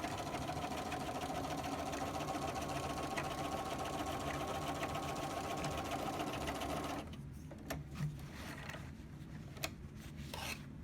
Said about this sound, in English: now I'm just sewing right along that bottom edge